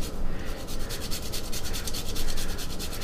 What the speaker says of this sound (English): And then I'll go ahead and grate in the nutmeg.